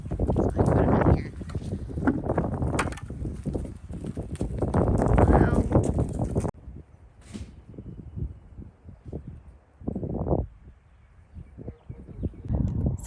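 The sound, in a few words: horse hooves clip-clopping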